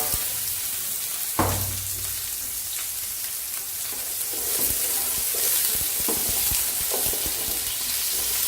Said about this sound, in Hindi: और प्याज को अच्छी तरह वो ब्राउन करेंगे।